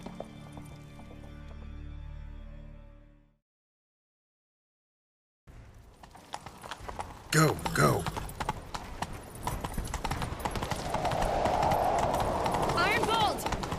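Horses galloping in The Witcher 3 during a chase, a fast rhythmic clip-clop of hooves that builds and holds after a short silence, with loud game music at the start and brief shouted voices over the hoofbeats.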